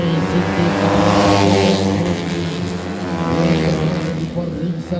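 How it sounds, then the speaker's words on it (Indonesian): A 150 cc racing motorcycle at a regional road race on a former airport circuit, its exhaust roaring loudly and continuously with a steady droning harmonic tone, likely mixed with other engines close by. "Begitu hebat dan suara-suara knalpot yang dia dihasilkan."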